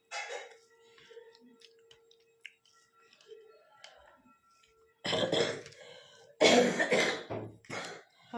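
Several loud, harsh coughs burst out near the end, following quieter scattered clicks and faint throat sounds, close to the listener in an otherwise hushed room.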